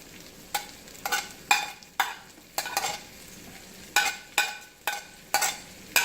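Onions and garlic sauté in a hot pan for a spicy chicken stir fry, a steady sizzle broken by repeated bursts of stirring about every half second, close and clear with no voices.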